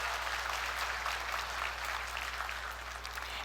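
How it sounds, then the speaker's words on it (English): An indoor audience at a network marketing leadership training claps steadily throughout, a dense, even patter of many hands at moderate distance with a low background hum. "Give yourselves a round of applause again."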